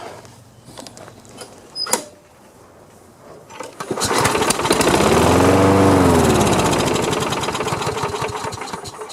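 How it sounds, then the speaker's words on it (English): A Craftsman lawn mower with a loose muffler, giving off white smoke, is cranked. After a few faint clicks and knocks, its engine catches and roars loudly for several seconds, its pitch rising and falling unevenly. "it's priming with gas there, so let's step back and see if it'll crank"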